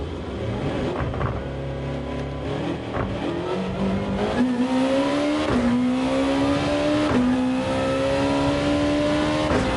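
A Honda race car from 1996 in Gran Turismo 7, lapping the Nürburgring, revs loud and close. The engine pitch climbs and drops through repeated gear shifts over continuous road and tire noise, with no talking.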